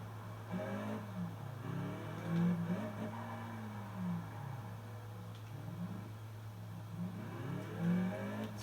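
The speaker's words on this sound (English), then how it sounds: "you can do some downshifts, listen" A sporty test-drive car's engine rising and falling through several downshifts, revs swelling in waves over a steady hum from inside the cabin, moderately quiet.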